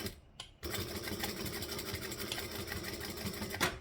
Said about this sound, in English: I am going to stitch across here